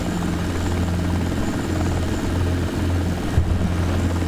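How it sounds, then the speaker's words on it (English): Helicopter fitted with fixed floats flying in a desktop flight simulator, with a steady, close rotor and engine drone and a constant low hum that briefly dips near the end. "So this is how you fly a helicopter equipped with fixed floats."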